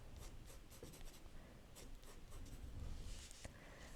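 A pencil scratches and strokes on paper while a gift-box drawing is sketched, with a series of short rasping marks followed by a longer stroke, close and quiet with no talking.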